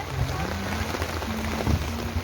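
Heavy rain falls steadily at an outdoor event, a dense, even patter drumming on surfaces, with a faint low tonal hum running underneath.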